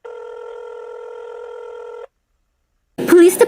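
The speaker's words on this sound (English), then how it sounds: "Ringing the police department." A telephone rings steadily for about two seconds, a clear electronic trill, while the caller waits to reach the police department, then stops; after a brief silence a voice answers.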